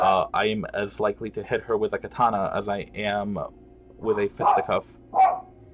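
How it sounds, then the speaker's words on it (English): Dogs bark indoors, a few short barks heard in the background while a person speaks over them close up. "Apologies if you can hear the doggos barking."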